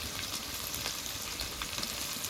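Chopped onions with salt sizzle and crackle steadily in a hot pan while being stirred, a continuous dense frying hiss close up with occasional scraping stirs.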